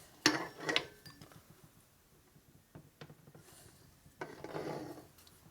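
Faint, sparse metallic clicks and knocks come from gear backlash in the flywheel lower end of a 1997 Harley-Davidson Evolution 80 ci engine being rebuilt, heard as a few brief taps against quiet shop background.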